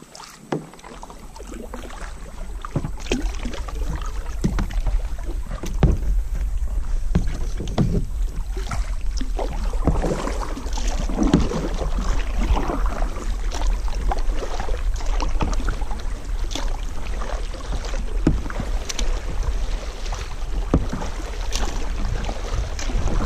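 Canoe paddling through the Okefenokee Swamp, with steady, close splashes and drips of the paddle strokes against a continuous low rumble of wind on the microphone, and no talking.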